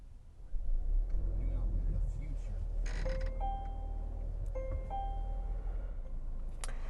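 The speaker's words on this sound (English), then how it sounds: "to start up the XC60, just put your foot on the brake and you're going to twist this knob right here" A 2023 Volvo XC60 starts up with a twist of the console knob: a low engine rumble swells in, then soft electronic chimes and tones ring out over the steady idle as a person talks.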